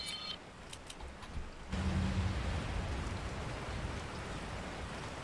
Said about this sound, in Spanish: Ahora llueve, por cierto.